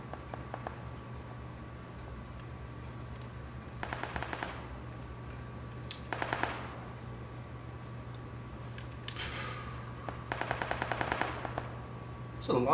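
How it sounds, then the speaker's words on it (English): Distant gunfire in the video game PUBG: several short bursts of rapid automatic shots spread across a quiet background with a low steady hum, no one talking over them. "There's a lot of gunfire going on over there."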